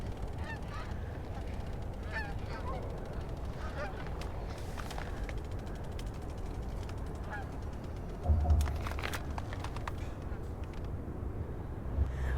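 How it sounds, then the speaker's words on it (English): Geese honk in scattered calls over steady wind and road rumble as a trike rides across a bridge over the Columbia River in Washington, with one louder honk burst near the end. "look at all these geese"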